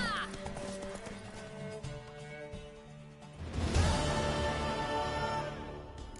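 Horse hooves gallop in a race in The Witcher 3, a quieter stretch giving way to louder, denser hoofbeats partway through, all mixed with game ambience and soft background sound.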